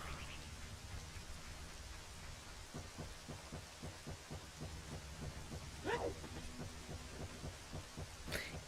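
Steady rain hisses through the Nintendo 64 game The Legend of Zelda: Ocarina of Time, with soft low rumbles and a brief sweeping effect near the end, no voices.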